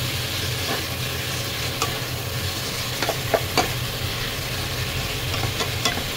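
Pork adobo frying in a pan with vinegar, stirred with a steady scraping and a constant loud sizzle, with a few sharper clinks of the utensil against the pan.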